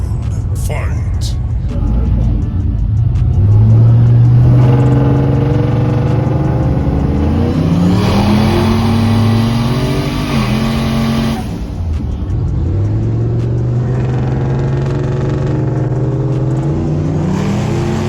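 GMC Sierra truck with a turbocharged 6.0 engine at a no-prep street drag race, engine revving loud and close with rising and falling gear-change tones and a strong pull midway, people talking throughout.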